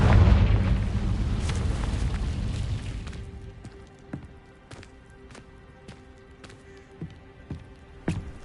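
A Confringo spell explodes in a wizard video game: a loud, broad blast that rumbles and slowly fades over about three seconds, followed by scattered sharp clicks and pops in the quieter aftermath.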